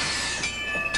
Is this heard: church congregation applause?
no